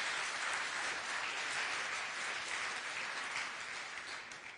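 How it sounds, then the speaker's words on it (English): A church congregation applauds the worship team at a morning service. The clapping is sustained and even, tapering slightly toward the end. "can we just give them a round of applause this morning?"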